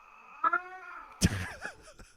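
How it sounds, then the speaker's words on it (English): Cat and dog squabbling indoors in the early morning: a couple of sharp yowls, then a sudden loud thump followed by wavering cat caterwauls, close by and brief. "Between the cat and the dog."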